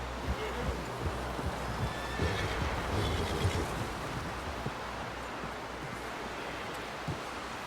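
A horse whinnies loudly up close amid hoof clops in Red Dead Redemption 2, with a steady rushing wash of noise underneath.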